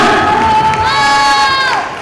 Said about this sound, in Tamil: அவர்களுக்கு மிகப்பெரிய பலத்த கைத்தட்டல் கொடுத்துடலாமா?